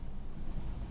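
Pen or marker scratching steadily across a surface while a chemistry formula is written out, a continuous close, faint rasping texture lasting about a second with no voices.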